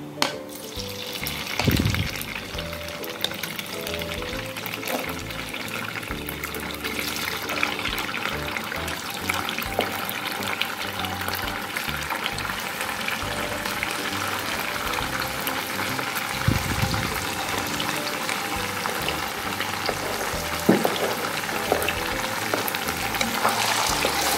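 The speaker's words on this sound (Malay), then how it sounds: "bila minyak sedikit dah mula panas macam tu, kita gorenglah tahu" Steady crackling sizzle of tofu frying in hot oil, continuous throughout, with occasional louder pops and a faint stirring clatter.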